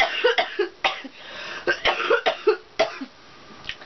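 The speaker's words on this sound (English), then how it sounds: "The coughing." A sick person's coughing, a string of short dry bursts, close and moderately loud, repeating irregularly with brief pauses between them.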